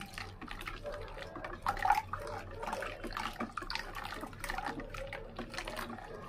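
Thick homemade liquid floor and bathroom cleaner is poured slowly, making a faint, quiet trickle and gurgle with a few soft splashes close by.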